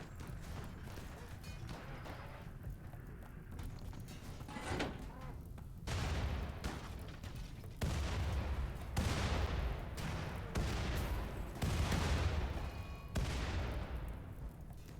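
Heavy bombs blast buildings in a video game, a run of loud crashing booms at roughly even intervals over a low, rumbling backdrop.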